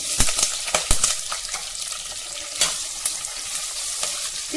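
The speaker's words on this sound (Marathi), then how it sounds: "थोडंसं तेलामध्ये हे तोंडली आपण परतवून घेऊया." Ivy gourd (tondli) stir-fried in a little hot oil with asafoetida and curry leaves, steady sizzling broken by sharp clinks and scrapes of stirring, close and with no talk.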